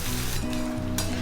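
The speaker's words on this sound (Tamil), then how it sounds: "வெங்காயத்தை சேர்த்துட்டு நம்ம ஒரு 1/2 செகண்ட் போல் நல்லா வதக்கிக்கலாம்" Chopped onions sauté in hot oil in a pan on high flame, giving a steady, close sizzle that crackles throughout without any talk.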